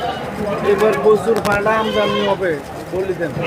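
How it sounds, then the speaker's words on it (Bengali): Goats bleat repeatedly at the Sagarika goat market in Chattogram, their wavering calls rising over a steady din of nearby voices and crowd talk. "আপনাদেরকে আমি আরও অনেক ছাগল দেখাবো বিভিন্ন সাইজের ছাগল আছে"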